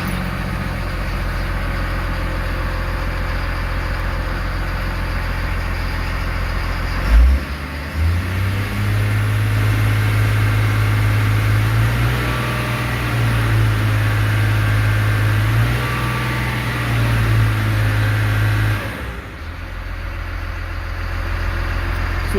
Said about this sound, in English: I can do a full throttle shift from neutral to third forward, and the machine's not going anywhere.